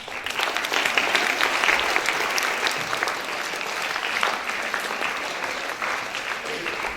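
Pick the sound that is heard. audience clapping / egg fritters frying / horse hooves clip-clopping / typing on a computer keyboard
audience clapping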